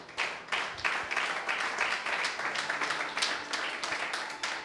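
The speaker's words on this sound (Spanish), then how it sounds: "Denle un aplauso al rey." Congregation at a Messianic religious teaching gives a round of applause, a fairly faint but steady patter of many hands clapping with irregular sharper claps, no talk over it.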